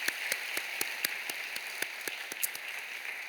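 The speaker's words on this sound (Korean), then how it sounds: "우리 함께 박수 쳐주시길 바랍니다" Sparse, evenly spaced hand claps in a church gathering for a seminary lecture, individual sharp claps standing out over a steady hiss, fairly close and moderately loud.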